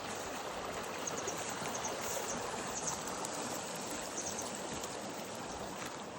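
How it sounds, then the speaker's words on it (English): A river in Japan flows steadily nearby, an even, continuous rushing and babbling of water with no pauses, fairly soft and heard alone without voices. "I love the sound of the river."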